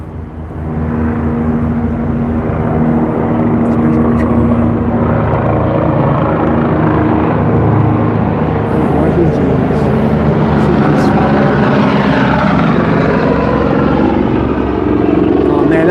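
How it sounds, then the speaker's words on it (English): A medical ICU helicopter passes overhead with a loud, continuous rotor and engine drone that holds steady throughout, close and dominant. "That's one of them ICU helicopters."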